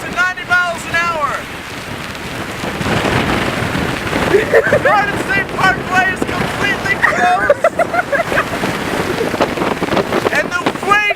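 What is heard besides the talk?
strong hurricane wind and rain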